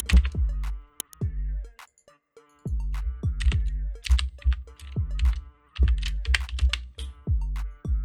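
Keys clatter on a computer keyboard in quick, close runs of clicks while entering text in the Webflow web design tool, pausing briefly once before resuming, with no talk.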